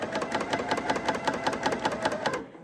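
A Bernina L620 coverstitch machine sews fabric with a decorative chain looper thread, making a fast, steady, close-up mechanical whir of stitching that runs continuously and cuts off just before the end.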